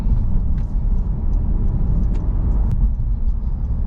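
Inside a moving Honda Civic, a steady low road rumble and engine drone continues throughout, with a few faint knocks and ticks from the cabin and no talk.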